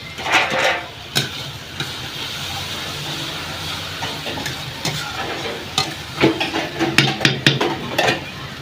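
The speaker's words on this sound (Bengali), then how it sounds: "ঢাকনাটা খুলে একবার নেড়ে চেড়ে নেবো" A pan of mola fish curry stirred once the lid comes off: continuous sizzling with repeated spatula scrapes and clattering bursts against the pan, growing busier toward the end.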